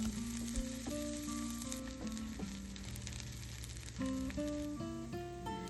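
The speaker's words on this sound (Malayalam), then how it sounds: "രണ്ട് സ്പൂൺ ഗാർലിക്ക് ചോപ്പ് ചെയ്തതും ചേർത്ത് നന്നായിട്ട് വഴറ്റി കൊടുക്കുക" Onion, garlic and fennel sautéing in oil in a kadai, a steady close sizzle and frying hiss running throughout, with music playing over it and no talk.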